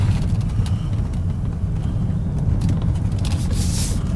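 A 2000 BMW 528i on a test drive, heard as a steady, loud interior road and engine rumble with no voices.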